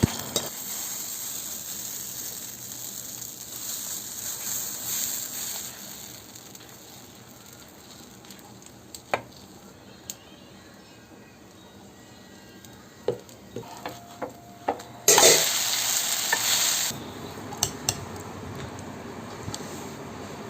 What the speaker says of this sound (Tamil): தாளித்து அதில் போட்டுடலாங்க